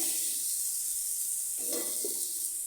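Pumpkin slices fry in a pan with a steady, close sizzling hiss, and a brief stir or shift of the pieces comes partway through.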